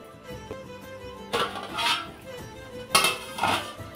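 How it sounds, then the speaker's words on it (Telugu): A ladle stirs a green mango fish curry in a pot, giving several scraping, clanking metal strokes against the pot in two louder bursts over a faint background, no talking. "మధ్య మధ్యలో అడగంటుకోకుండా నిమ్మలంగా తిప్పేసుకోవాలి"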